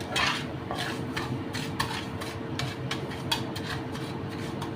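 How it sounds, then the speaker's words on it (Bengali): Sugar stirred into ghee in a pan over low heat, a steady soft sizzle with repeated light scrapes and taps of the spoon at an even rhythm, close, no talking. "ঘি দিয়ে চিনিটাকে আমি মিশিয়ে একদম ধিমে আঁচ করে দেবো।"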